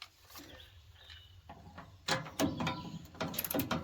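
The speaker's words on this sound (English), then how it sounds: "Ratchet's a little long for this." A ratchet loosens 5/8 bolts on a Liberty three-point wood chipper under repair. A series of irregular metallic clicks and clacks comes up close, growing louder and busier toward the end.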